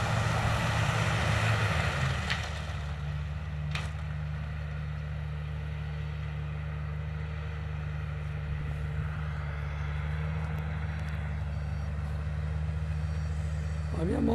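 A sugarcane harvester maneuvering and turning in a cane field, its steady low engine drone continuing at moderate distance for the whole stretch.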